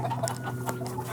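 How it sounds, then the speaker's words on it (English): Chickens cluck nearby at a shop full of birds, a few short, sharp clucks in quick succession over a faint steady hum. "Is that a chicken?"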